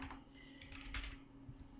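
Soft, faint typing on a computer keyboard during a computer class, with scattered keystrokes in an uneven rhythm and a low steady hum behind, without any talk.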